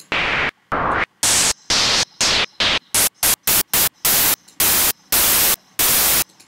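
A synthesizer noise patch in Logic 9 fires loud bursts of white-noise static, cut into short gated chunks in a rhythmic on-off pattern, harsh and alone.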